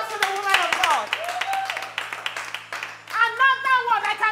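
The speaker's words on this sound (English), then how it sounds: "A round of applause for the woman of God" Clapping from a church congregation honouring a woman preacher, a loose patter of hands mixed with shouting voices and a rising sung or called-out line near the end.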